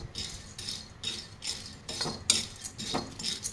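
Puffed gram (putnala pappu) is dry roasted in a kadai, stirred with a metal spoon in a quick series of scraping swishes and light clinks, evenly paced and close by.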